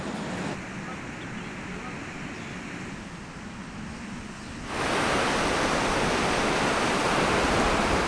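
Steady roar of ocean surf on a Casamance beach, broad and continuous, swelling louder partway through as a wave breaks closer, with no talk over it.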